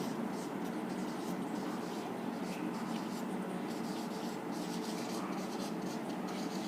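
Pen or marker writing on a surface during an English lesson gives a continuous close scratching and rubbing over a steady background hiss, with short irregular strokes.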